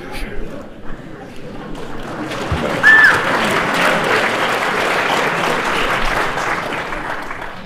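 An audience at a Slavoj Žižek talk breaks into loud, sustained applause that swells after a few seconds of quieter murmuring and keeps going dense and even to the end.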